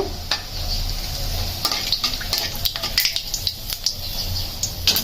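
Whole cardamom, cloves, a cinnamon stick and bay leaves fry in hot oil in a pan, giving a steady crackling sizzle with scattered sharp pops and stirring scrapes throughout.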